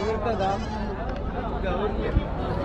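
Sheep and goat kids, including black Salem sheep, bleat at the busy Konganapuram goat market near Salem. Wavering bleats come close by under a background of crowd chatter.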